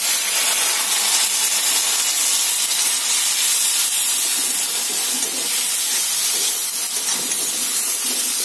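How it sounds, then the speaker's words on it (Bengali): A splash of water hits hot spices, coriander and cumin powder, in a pan and sets off a loud, dense hiss of steam and sizzle. It holds steady for the whole stretch with no talking. "একটু জল দিয়ে দেবো, নাহলে জিনিসটা পুড়ে যাবে।"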